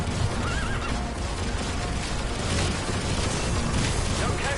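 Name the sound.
horse neighing in the video game Metal Gear Solid V: The Phantom Pain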